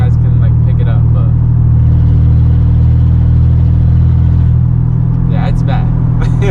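A Chevrolet S10 pickup with a faulty exhaust drones loudly and steadily while driving, a heavy low hum filling the cabin, with a person talking over it and brief clatters near the end.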